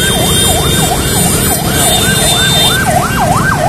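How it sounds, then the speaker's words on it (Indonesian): An ambulance siren wails loudly and close by at a crowded protest, a rapid repeating up-and-down yelp cycling steadily with road noise beneath and no talking. "Ambulans."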